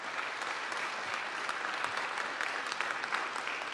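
An audience at a startup pitch event claps after a presentation, a steady, moderately distant wash of applause that holds evenly throughout.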